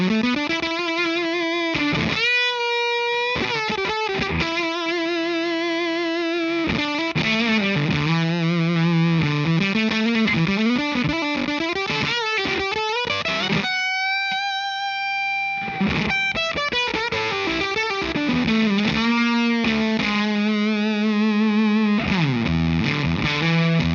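Electric guitar through a Fender MTG Tube Distortion pedal, loud and saturated, playing sustained notes, slides and bends with a few choppy passages and one long held note near the middle, with no talking.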